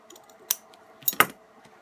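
Scissors make a few short, crisp snips through folded fabric, cutting a thin slit in a leaf appliqué for a Lilo-inspired dress: one cut, then two more in quick succession, close and fairly quiet.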